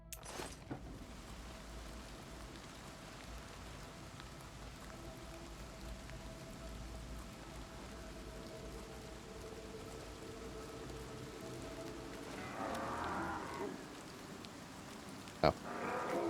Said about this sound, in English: hearing the rain like this is going to bother me